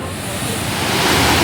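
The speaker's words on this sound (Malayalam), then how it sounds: "ഇത് അത്യാവശ്യം നല്ല സേഫ് ആയിട്ടുള്ള ഒരു വെള്ളച്ചാട്ടമാണ്" Steady, broadband rushing of the Elappally waterfall in full monsoon flow, a dense continuous roar that swells slightly louder toward the end, with no voices over it.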